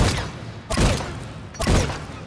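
Weapon shots fired in Mass Effect 3, heard as two heavy booming blasts about a second apart over a continuous rumbling background.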